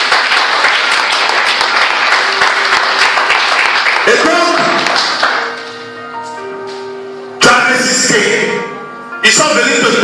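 A church congregation applauds and cheers in a loud, dense burst, interrupted by sustained musical tones and resuming in stretches, with voices mixed in.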